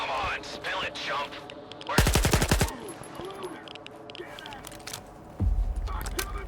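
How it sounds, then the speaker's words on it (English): Automatic weapon fire in STALKER 2, a rapid burst of loud shots followed later by another heavy blast, with someone talking over the scene. "Shooting continuously increases the risk of a weapon getting jammed."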